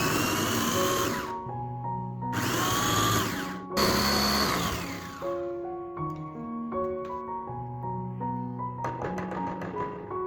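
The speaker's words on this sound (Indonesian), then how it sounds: "Kemudian ini kita chopper sampai benar-benar halus." An electric food chopper whirs in short bursts while grinding a spice paste with palm sugar, its motor pitch sliding up and down between pulses, loud and close, with no voices.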